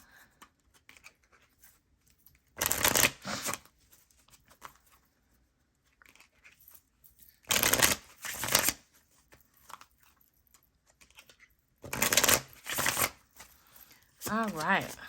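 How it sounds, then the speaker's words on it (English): An oracle card deck called Secure the Bag Money Oracle is shuffled in three or four separate crisp riffling bursts. Quiet pauses fall between them, with faint talk at times. "Let me go ahead and pull out that Secure the Bag Money Oracle."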